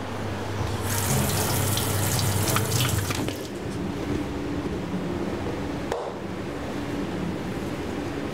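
Tap water runs steadily into a sink while something is rinsed under it in a kitchen making Hungarian-style goulash soup, a loud, continuous splashing that eases slightly after a few seconds.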